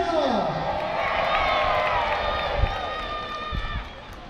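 A crowd at the Battle of Peasholm show in Scarborough, England cheers, whoops and claps loudly after a mock naval battle, with a sustained roar of many voices and some shouts rising out of it.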